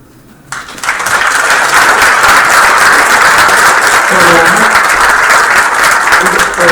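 Loud round of applause from an audience at a school board meeting, bursting in after a quiet start and holding strong and steady, with a few voices calling out beneath it.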